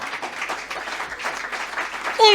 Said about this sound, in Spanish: ¡Oh, le puede dar un fuerte aplauso a Dios!